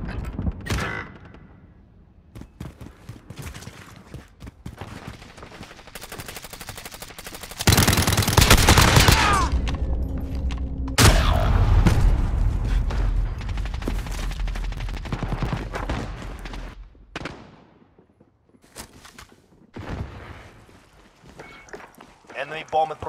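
Rapid automatic gunfire and loud bursts in a Call of Duty: Modern Warfare multiplayer gunfight, with heavy sustained shooting in the middle and scattered shots and footsteps around it, while players talk over the action.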